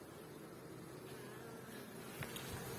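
Dense, steady buzzing of many Carniolan honey bees close by at a hive in rainy weather, a continuous hum with no voices.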